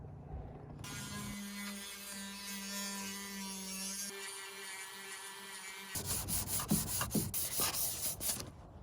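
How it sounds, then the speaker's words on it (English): Steady rough rasping of sanding fiberglass on a vintage Bigfoot B19 camper trailer, a continuous abrasive rub that turns into quicker, choppier strokes toward the end. "If you're going to be sanding fiberglass, you got to make sure you wear good protection."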